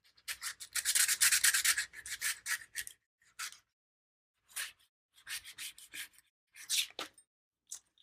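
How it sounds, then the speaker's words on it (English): Close, dry scratching of a tool across a printed transfer surface, in uneven bursts: one long rough scrape, then short separate strokes broken by silences. "if I scratch up the surface, I can get some of the print to still come off of it"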